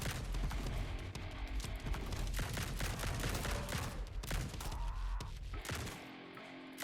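Rapid gunfire with incendiary bullets in the looter-shooter bullet-heaven game Grind Survivors, a dense stream of sharp shots and impacts rattling continuously before cutting off near the end.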